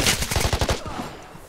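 Machine gun fire in a tank video game, a quick rhythmic burst of about eight loud shots that stops abruptly, leaving quieter background sound.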